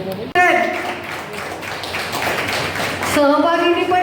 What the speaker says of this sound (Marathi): सहभागींनी पण टाळ्या वाजवा, सरांना दिसू दे तुम्ही त्यांचं स्वागत करताय.